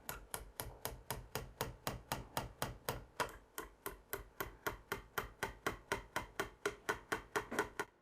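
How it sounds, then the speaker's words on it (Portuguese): Steady light hammer taps on a stone bow, part of fitting a front brace to the stock, about three or four strikes per second in an even rhythm, close and crisp. "Obviamente, estou usando um martelo"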